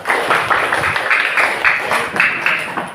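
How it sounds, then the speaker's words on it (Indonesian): A class of students clapping hands together in a rhythmic pattern, bursts of claps grouped in beats, fairly close and lively. "Oke, tepuk tangan semuanya."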